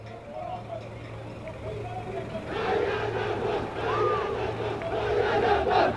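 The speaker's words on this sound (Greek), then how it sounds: "Με τις φωνές των πρωταγωνιστών και το θερμό χειροκρότημα από την εξέδρα" At the close of a championship sports match, players shout and a crowd in the stands applauds, with the shouting and clapping swelling together in a dense, loud mass. A low steady hum runs underneath.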